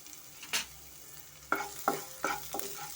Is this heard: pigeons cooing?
no